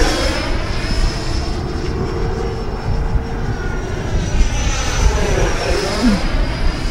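E-flite Viper 90mm electric ducted fan RC jet flying overhead, a steady high whining roar with a shifting pitch sweep as it banks through turns, loud and continuous with wind noise.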